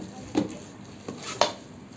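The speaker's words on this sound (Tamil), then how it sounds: "நல்லா இது போல் கலந்து கொடுங்க." Tempering with curry leaves is mixed into pongal in a pot, giving three soft scraping strokes with light clinks of the spoon against the pot, close and quiet over faint background.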